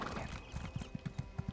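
Horse hooves clip-clop in Elder Scrolls Online, a quick run of soft, evenly spaced hoofbeats, faint and fairly close, with no talking.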